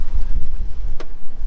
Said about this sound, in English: Now, it is kind of windy outside.